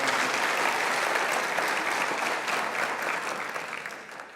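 A church audience breaks into loud, sustained applause, a dense wash of many hands clapping that slowly fades toward the end.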